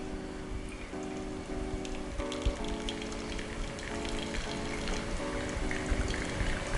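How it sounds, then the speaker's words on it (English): Hot water at 93 degrees poured in slow circles over ground coffee in a Suprima Instruments SD-1 dripper with a standard filter, a soft continuous trickle and patter under a faint repeating tonal hum. "Just a nice circular pour, not too little, not too much."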